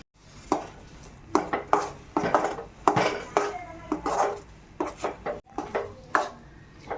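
A spoon scrapes and knocks against a pan while a lentil and coconut filling with ghee is stirred for paruppu poli, making irregular close clinks and scraping strokes with no talking.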